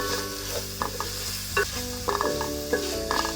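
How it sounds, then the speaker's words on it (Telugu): Curry leaves sauté in a pan for a spicy Andhra raw mango fish curry. A constant sizzle and crackle runs under repeated scraping strokes of a stirring utensil, close and clear. "కరివేపాకు వేసుకుని ఇంకో 2 minutes సాటే చేసుకోండి"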